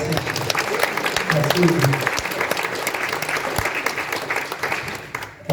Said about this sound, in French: Je veux qu'on applaudisse.